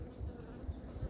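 A honey bee chews and emerges from its cell on a hive frame, heard as a faint, close buzzing hum that swells in short bursts over a low background.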